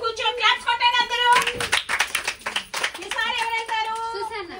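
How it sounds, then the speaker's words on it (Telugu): Young children in an anganwadi classroom clap their hands together in a burst of quick, uneven claps, with children's voices and singing around it before and after. "క్లాప్స్ కొట్టండి అందరూ"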